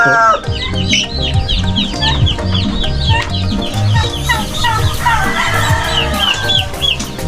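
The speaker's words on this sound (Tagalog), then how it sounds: "Ito pong aking tandang nakatali po kasi magsasabong sila ng isa" A tethered gamecock and a flock of farmyard chickens, including a hen with newly hatched chicks, cluck busily and overlap in close, loud, choppy calls, with occasional crowing-like cries mixed into the continuous chatter.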